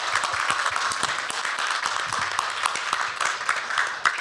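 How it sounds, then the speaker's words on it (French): An audience at a Toronto book fair applauds the organizers, a steady wash of many hands clapping at moderate distance, sustained for several seconds with no clear speech over it. "On les applaudit."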